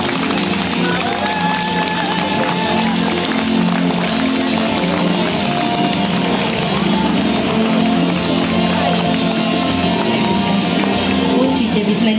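Large outdoor crowd at a village race event applauding and clapping steadily, a dense continuous wash of claps and cheering with no pause.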